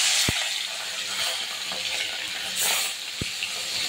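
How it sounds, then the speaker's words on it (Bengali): Pieces of phasa fish sizzle and fry in hot oil in a kadai, a steady close crackling hiss with a couple of sharp clinks from a utensil, no talk. "তেল গরম হয়ে গেছে, এবার মাছ দিয়ে দেবো আমি একটা একটা করে।"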